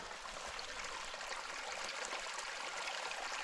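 Water streams steadily down a trench dug along a trapline, cleared of leaves, debris and clay, making a continuous close rushing trickle with no talk over it.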